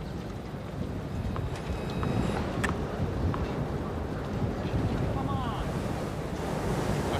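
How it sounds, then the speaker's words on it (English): Steady, blustery wind roars across the microphone at an outdoor tennis match, rising and falling in gusts, with surf-like rushing noise throughout. "It is windy, however."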